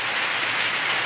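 Rain falls steadily in a dense, even patter across surfaces, an unbroken hiss that stays close and uniform throughout, with no talking.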